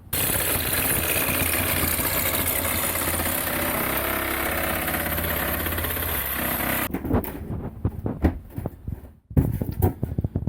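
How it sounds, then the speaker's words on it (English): A reciprocating saw cuts out an opening in an ambulance being converted to an RV for an air conditioner install. It buzzes loudly and steadily for about seven seconds, then stops, leaving scattered knocks and clatter. "I think I'll just come through with the Sawzall and cut out the rest of the way."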